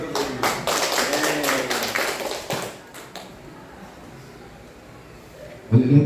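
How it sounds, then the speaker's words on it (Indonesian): A class of people claps together in a quick, rhythmic patterned burst for about three seconds, loud and close, then the room falls quiet before a short low bump at the end. "Tepuk tangan dulu."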